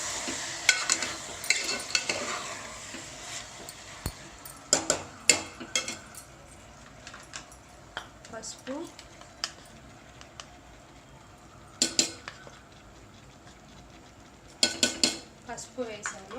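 Mutton curry being stirred in a pan, with repeated scraping and clinking of a metal spoon against the cookware over a soft sizzle, the strokes coming in uneven bursts close by.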